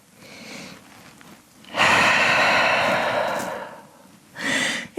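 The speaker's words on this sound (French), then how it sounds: "Et on prend une grande respiration en chien tête en bas." Deep, audible breaths during a downward dog yoga pose in a vinyasa session: a long, loud breathy exhale lasting a couple of seconds, framed by quieter breaths before and a shorter breath near the end, with no talking.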